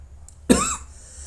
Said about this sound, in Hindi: ठंड बढ़ चुके हैं, इस वजह से थोड़ा खांसी है, उसे माफ़ कीजिएगा।